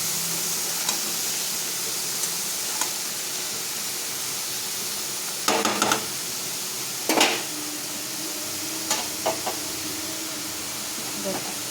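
Chopped bottle gourd frying in a pan with green chillies and bay leaves gives a steady sizzling hiss, broken by a few short clusters of stirring and scraping.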